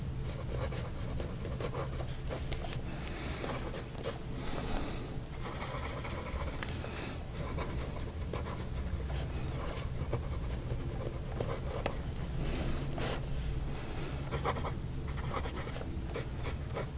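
A pen, written with uncapped, scratches and rubs across paper in a continuous, close, fairly steady stream of strokes, with small rhythmic variations and no speech.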